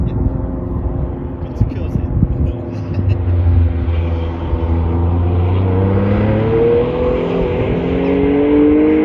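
A Porsche 997 Carrera GTS engine roars loudly on a race track, dropping into second gear under hard braking, then climbs steadily in pitch as it accelerates hard, with a voice talking over it.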